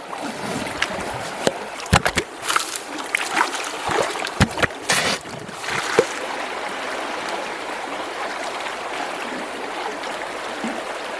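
Water runs and splashes close by while gold is being prospected in New Zealand, a steady stream with irregular bursts of splashes and knocks that grow busier through the middle and settle into continuous flow at the end.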